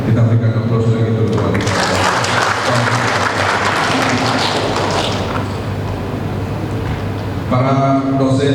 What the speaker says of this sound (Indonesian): Kita berikan aplaus lagi untuk